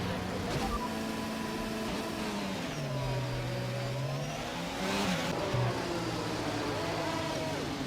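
An F1 car engine in F1 22 rolls along on the formation lap at the Saudi Arabian Grand Prix, a steady buzzing drone whose pitch rises and dips with gear changes, continuous throughout, with a voice talking over it.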